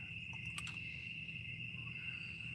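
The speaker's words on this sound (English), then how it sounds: "And just these crickets." Crickets chirp at night at a hilltop campsite, a steady continuous high trill running unbroken through the whole stretch with no other sounds, faint and evenly spread.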